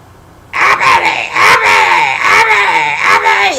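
A person's voice imitates a woman screaming, a loud, strained wail that rises and wavers for about three seconds after a quiet start.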